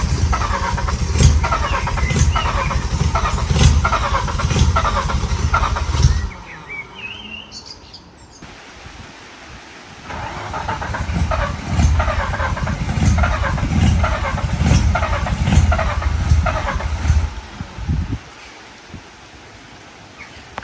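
A Mazda RX-5 with a 13B rotary engine cranks and fires, running in loud, choppy bursts, cutting out briefly and catching again into a rough idle, with no voices.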